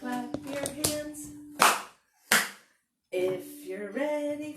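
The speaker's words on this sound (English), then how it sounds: "So, if you're ready for a story, clap your hands." Children at a library storytime clap their hands along with a song, two sharp, separate claps standing out between stretches of singing voices.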